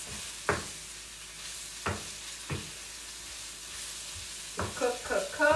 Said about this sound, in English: while the shrimp is cooking, you just want it to get that pretty pink